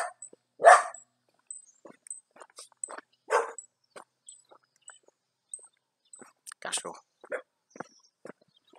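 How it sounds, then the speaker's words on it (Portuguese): A dog barks in short, scattered bursts near a house on a rural road, with some yips between them, while a person talks close by. "o cachorro já tá aqui latindo comigo"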